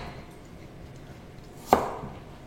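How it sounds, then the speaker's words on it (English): A knife chops a washed, peeled vegetable into pieces for a food processor, one sharp close cut standing out against quiet kitchen background. "now I am just cutting it into manageable pieces"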